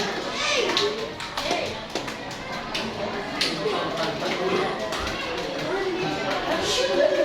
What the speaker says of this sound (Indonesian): Tepuk tangan dong untuk Fatur